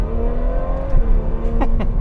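A 2018 Ferrari 812 Superfast engine revs loudly and close by, its harmonic drone holding steady before sharp rising blips near the end, with no talking over it.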